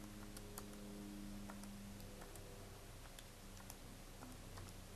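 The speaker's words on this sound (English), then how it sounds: "You type that in your calculator" Fingers tap out a calculation on calculator keys as a series of soft, quick, evenly spaced clicks over a low steady hum, faint and with no talking.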